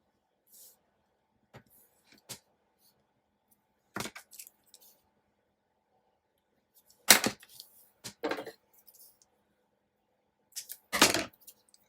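Plaid paper for a planner is cut with scissors, sparse crisp snips scattered across the stretch, with a louder cluster of cuts midway and another near the end, otherwise quiet.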